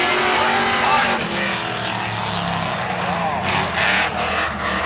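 Stock cars race at Seekonk Speedway on NASCAR opening day, engines roaring loudly past through the turn and down the backstretch. Pitch sweeps as they pass, and a track announcer talks over the noise.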